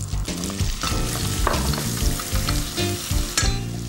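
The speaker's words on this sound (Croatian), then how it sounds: "i na laganoj vati pržimo dok luk ne omekša." Chopped onions sizzle steadily in hot melted butter, a dense crackling fry over low heat with occasional spatters and stirring, close by.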